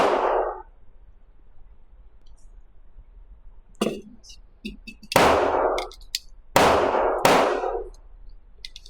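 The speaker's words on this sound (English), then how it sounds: "There's only a couple people in here shooting, but they're making it seem like it's 10 people in here" Loud, sharp gunshot reports from other shooters at an indoor range, several cracking blasts spaced irregularly with one fading at the start and a tight cluster toward the end, ringing in the enclosed space with no talk.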